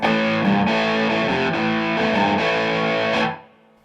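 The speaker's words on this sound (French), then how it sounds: "Et le son saturé." Heavily distorted electric guitar chords, thick and buzzing, played steadily for a few seconds before cutting off.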